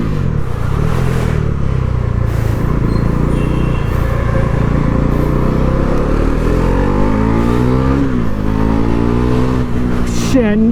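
A Bajaj Pulsar NS400Z motorcycle being ridden, its engine droning loud and close, pitch rising and falling through gear changes, with a sharp rev sweep near the end.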